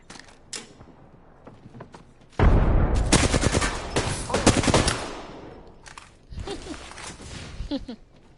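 Gunfire in the video game Apex Legends bursts out as loud, rapid automatic fire, dense for a couple of seconds and then fading. A second volley and scattered mechanical clicks follow, with brief talk in places.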